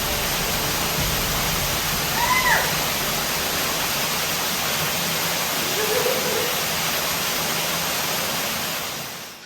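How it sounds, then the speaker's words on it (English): A hidden waterfall inside a cave roars as a steady broadband rush, loud and unbroken for the whole stretch, with a couple of faint higher calls briefly rising above the water noise. "The cave tour ended at a hidden waterfall within the cave."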